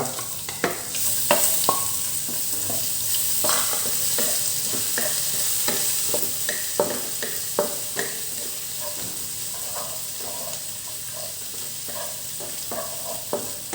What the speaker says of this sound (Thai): ใส่พริกกระเทียมกะปิลงไปคร